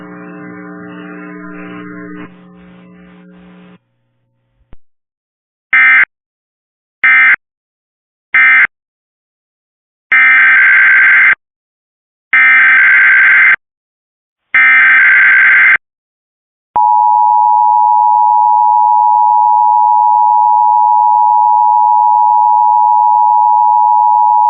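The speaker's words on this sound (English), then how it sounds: "official messages would have followed the alert tones" Emergency Alert System weekly test on Cox Communications cable in San Diego: a low buzzy tone, a string of harsh electronic data bursts, then a long steady loud alert tone held alone.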